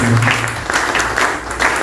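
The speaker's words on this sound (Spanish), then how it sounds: "Fuertes palmas para ellos." Brief burst of audience applause at a seminar, quick clapping pulses after a speaker thanks the panelists, with a low murmur underneath.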